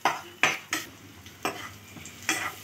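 Chapati noodles being stirred with salt in a pan, a series of about six distinct scraping strokes of a spatula against metal at an uneven rhythm over a faint sizzle, close and clear.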